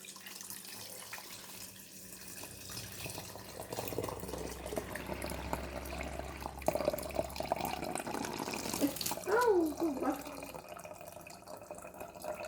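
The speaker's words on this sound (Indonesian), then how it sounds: "Kemudian airnya bisa dituang menggunakan corong, menggunakan corong ini." Water poured through a funnel into a narrow-necked bottle for making eco enzyme, a steady close trickle and gurgle that swells near the end, with faint talk in the background.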